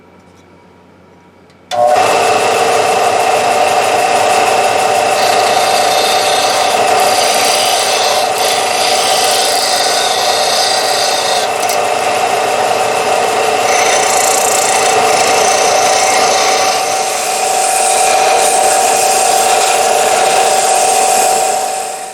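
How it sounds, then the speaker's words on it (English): A small belt and disc sander grinds steadily against wood, starting abruptly after a quiet moment and running continuously with a constant motor whine. "I'm going to use a combination of my small belt and disc sander"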